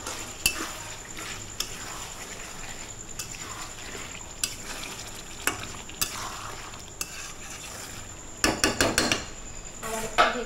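Potatoes being stirred in a frying pan of sizzling chicken liver curry, with a steady faint fry and light scraping, then a cluster of louder utensil clatters and knocks near the end.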